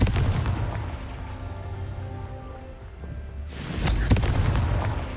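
A Confringo fire spell detonates in Hogwarts Legacy, a rumbling game explosion with a sustained low roar that swells into a fresh, louder blast past the midpoint and rolls on with crackling impacts.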